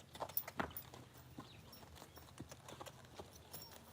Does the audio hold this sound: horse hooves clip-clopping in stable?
yes